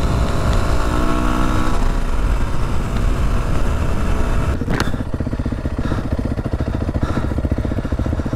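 Motorcycles ride through the Australian bush during a motorcycle orienteering (rogaining) event. A loud, close engine drones and revs without a break, with rough clattering throughout and a sharp burst just before the five-second mark.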